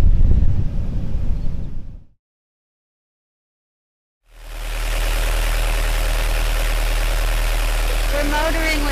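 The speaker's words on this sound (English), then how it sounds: "We're motoring with our engine door open to keep the engine as cool as possible." A boat's inboard engine motoring upriver with its engine compartment door left open, a steady loud drone that cuts out into near silence and then returns, with wind buffeting the microphone.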